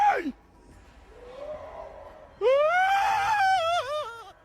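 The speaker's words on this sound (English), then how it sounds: "Most in the comments are chuffed at this dude's terrified scream." A man lets out a terrified scream, a brief yelp, then a long loud wavering wail rising and falling in pitch, close and alone.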